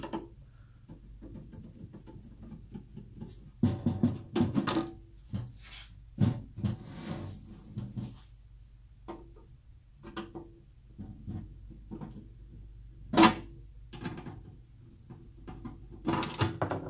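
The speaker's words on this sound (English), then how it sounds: "it looks like just a couple of screws in this top piece right here will come off, so we'll take these out" Screws being backed out of the top cover of a video camera power supply, heard as scattered close-up clicks, scrapes and small metallic rattles in bursts, with quiet gaps between them and no talking.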